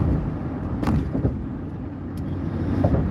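A car drives through light traffic on the way home, a steady road and engine rumble heard from inside, with a couple of faint passing swishes and no talking.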